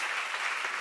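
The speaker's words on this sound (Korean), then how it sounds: "박수하세요" Brief burst of congregational clapping during a church sermon seminar, dense and even, heard at moderate distance without voices.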